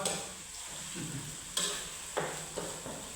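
Beef pieces frying in hot oil, a steady sizzle with occasional soft stirring knocks and scrapes, close and moderately loud, with no talking.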